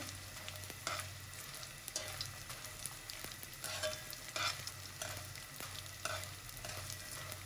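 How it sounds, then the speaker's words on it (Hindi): Edible gum frying in hot ghee, a steady close sizzle with periodic scraping stirs of a spoon across the pan, no voices. "घी हमारा गरम था, फौरन ही हमारी गोंद फूलने लग गई है।"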